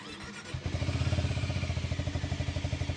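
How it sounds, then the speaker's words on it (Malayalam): Harley-Davidson X440 T motorcycle exhaust running steadily, a deep, throbbing, regular pulse close by that swells after a brief start and holds a lumpy rhythmic beat with no talking. "ഞാൻ നിങ്ങൾക്ക് എക്സോസ്റ്റ് നോട്ട് കേൾപ്പിച്ചു തരാം പുതിയ എക്സോസ്റ്റ് നോട്ട്"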